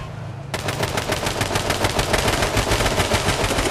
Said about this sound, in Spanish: ¿Quién está disparando?